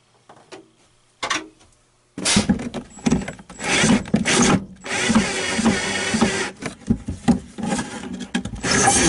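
Old, corroded screws are worked out from under a sink in a Hi-Lo trailer, with loud, close ratcheting, scraping and rattling that comes in bursts and then runs on in a rough grind, with no talking.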